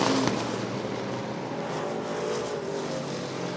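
Stock race cars circling Rockford Speedway during bracket racing, a steady loud engine roar sustained throughout with no break.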